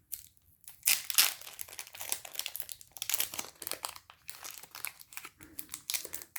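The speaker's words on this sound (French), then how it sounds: "Faut vraiment que j'arrive à choper le truc pour ouvrir des boosters" Duel Masters trading card booster pack wrappers are torn open, close and fairly quiet crinkling and tearing in irregular bursts, with rustling foil and pauses between pulls.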